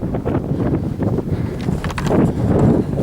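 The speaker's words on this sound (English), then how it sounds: "Wind is quite breezy" Breezy wind gusts across a hillside path on a hill climb, a loud rumbling buffet against the microphone that swells and eases without a break.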